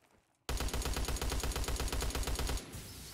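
Rapid sustained burst of VMG machine gun fire in Call of Duty Black Ops 3 Zombies, a loud, evenly spaced string of shots lasting about two seconds and then stopping abruptly.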